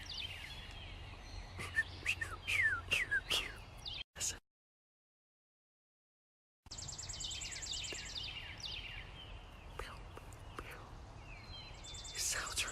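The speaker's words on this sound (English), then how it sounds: "These are birds." Birds call and sing in the open, with quick chirps and trills rising over a steady background; the birdsong drops out entirely for a couple of seconds, then returns as a dense chorus that continues to the end.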